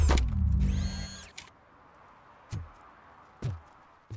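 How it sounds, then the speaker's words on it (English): Servo whirs from RoboCop in the video game RoboCop: Rogue City: a loud mechanical whirring burst with rising whine, then two short sharp clanking servo hits spaced about a second apart, no talk. "I like the various servo noises that RoboCop makes."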